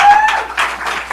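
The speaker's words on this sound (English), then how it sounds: "Can we get a round of applause for that?" An audience at a SXSW tech talk breaks into applause, a short burst of dense clapping that rises and falls in waves, fairly loud and close, with no speech over it.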